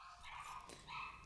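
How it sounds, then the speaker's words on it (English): Small dogs bark and yip indoors in short, fairly faint bursts over a low room hum. "Please excuse my dogs."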